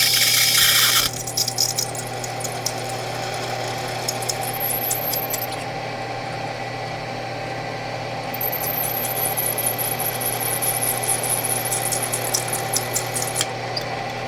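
A milling machine backs a stripped clutch screw out of a Gator clutch, a steady motor hum and whir with a faint high whine up top, after a short louder clatter at the start.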